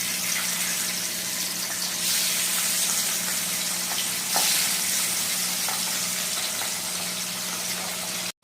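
Pabda fish frying in hot salted oil, a loud steady sizzle that holds evenly close up for several seconds, with a few sharper spits of oil and an abrupt cutoff at the end.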